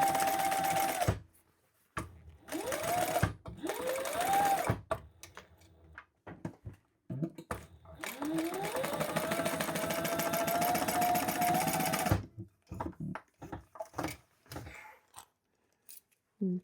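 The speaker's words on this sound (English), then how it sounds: "We're gonna fold our sides up and sew down the sides of the pocket." A sewing machine stitching down the sides of a crossbody bag pocket, running in several bursts of rapid whirring with short pauses between, loud and close.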